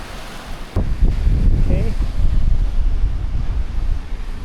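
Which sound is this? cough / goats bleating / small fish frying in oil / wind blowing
wind blowing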